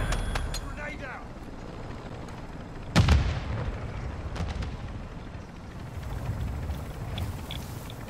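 A sharp, loud grenade blast bursts out midway through a Modern Warfare 2 firefight, with scattered gunshots and a low rumbling battle bed around it and some faint talk.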